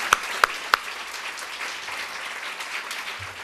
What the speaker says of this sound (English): So that's a round of applause for you guys.